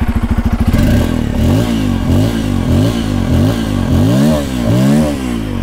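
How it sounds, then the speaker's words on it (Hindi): Up close, a Bajaj Pulsar F250 motorcycle engine runs, idling then revving repeatedly in quick rising and falling blips, loud and mechanical with a slight clattering edge. "और बाइक स्टार्ट हो चुकी है।"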